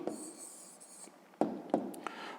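Pen strokes writing an answer by hand during a fifth-grade math exercise, soft scratchy scribbles with a few sharper taps, close and quiet.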